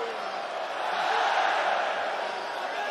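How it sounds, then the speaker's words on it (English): Arena crowd at an MMA fight cheering steadily, a dense, fairly distant roar of many voices that holds level for a few seconds. "The Coca-Cola Arena crowd loving the work from Usman Nurmagomedov."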